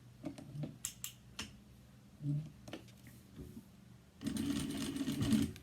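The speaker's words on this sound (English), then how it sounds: "So you just top stitch all the way around." A sewing machine top-stitches around a zipper on a cross-body bag, with a few soft clicks and taps before a short, steady mechanical whirr of close stitching near the end.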